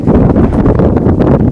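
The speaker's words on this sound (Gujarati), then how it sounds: "બાકી તો અહીંયા પવન ફૂકે મજા મજા" Wind gusts across a farm field in a Gujarati village, a loud, steady rumbling buffet pressing on the microphone throughout, with no voices.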